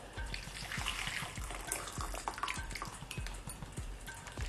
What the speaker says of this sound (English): I'm just going to refresh them really quickly with just a little bit more hot water